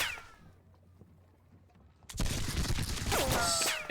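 Musket gunfire in a Seven Years War video game: after two quiet seconds, a loud crackling fusillade of many overlapping shots erupts and continues densely to the end.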